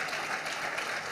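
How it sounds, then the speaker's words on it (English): Steady applause from a crowd at a college athletics press conference, a dense even patter of clapping filling the whole moment without pause. "You're supposed to clap for that."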